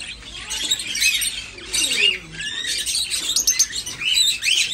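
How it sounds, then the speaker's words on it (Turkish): Parrots at a market in Eminönü, Istanbul, close bright squawks and chirps in repeated bursts with short gaps, lively and fairly loud. "Papağanlar var burada."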